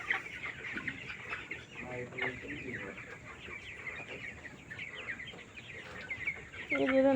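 Chickens cluck and murmur in a poultry shed during weighing, soft scattered clucks over a noisy background with faint voices, ending in a louder squawk.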